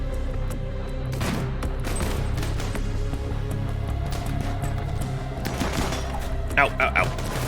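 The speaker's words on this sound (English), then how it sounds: "Good shooting, Slast." Gunfire crackles through a RimWorld battle, with dense, continuous volleys of small shots layered under background music and occasional sharper bursts, while someone talks over the fighting.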